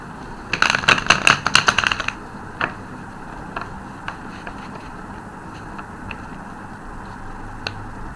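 A deck of tarot cards being shuffled up close, with a quick run of crisp riffling snaps early on, followed by sparse single card taps and flicks over a quiet background.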